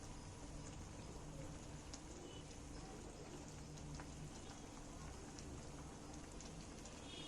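An egg curry mixture simmers in a pan, giving a soft, continuous bubbling hiss with faint pops. It sounds quiet and even throughout, with no talk over it.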